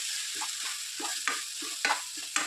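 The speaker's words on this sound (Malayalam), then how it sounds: "ഇനി ഇതിനെ എണ്ണയിൽ ഒന്ന് ചെറുതായിട്ട് ഇങ്ങനെ ഒന്ന് വഴറ്റിയെടുക്കണം." Mango pieces with spices sauté in oil while a spoon stirs them, giving repeated close scraping strokes over a steady soft sizzle, with no voices.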